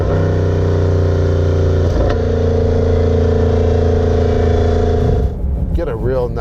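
A 2020 Jaguar F-PACE SVR exhaust rumbles loudly during a downshift, with a deep layered engine drone, a brief crackle partway through and the roar easing off near the end.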